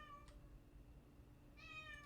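An indoor cat reacting to another cat outside gives two faint meows, one short at the start and a longer one near the end, under a steady background hum.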